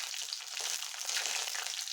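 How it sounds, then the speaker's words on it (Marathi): Curry leaves fry in hot oil for a red pumpkin bhaji, producing a close, continuous crackling sizzle that stays steady throughout. "यामध्येच मी कढीपत्ता घालत आहे."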